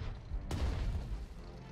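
A single heavy artillery blast in a World War II strategy game, a sudden loud boom with a deep rumbling tail that fades over a second or so.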